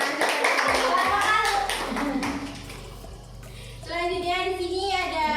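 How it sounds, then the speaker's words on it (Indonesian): Students clap their hands in a classroom during an economics lesson, a short burst of sharp hand claps early on that fades under children's and a teacher's voices talking. "Ya, benar sekali, tepuk tangan."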